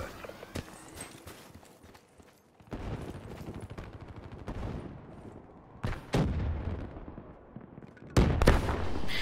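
Sniper rifle and shotgun fire in Call of Duty: Black Ops III multiplayer, with several sharp, loud shots standing out at intervals over a busy background of game noise and faint distant gunfire.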